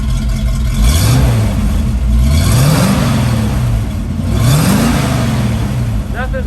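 A 1954 Chevy pickup's V8 engine revved in three rising and falling surges, loud and close, with a voice heard briefly at the end.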